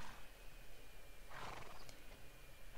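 A horse in the online video game Alicia Online gives a short whinny midway, heard over a constant bed of low game ambience and faint hoof-like clatter.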